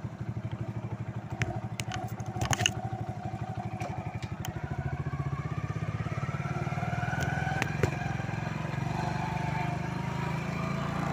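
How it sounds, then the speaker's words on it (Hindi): A motorcycle engine runs with a steady, rapid thumping idle that rises as the bike pulls away and rides through a residential lane, loud and close throughout, with a few clicks and clatters near the start. "मैं मोटरसाइकिल स्टार्ट करता हूँ"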